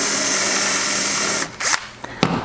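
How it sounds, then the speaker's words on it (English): A power drill whines steadily at close range as it drills holes in small wooden discs, then stops, followed by a few short clunks and handling knocks. "I'm going to drill out these little discs"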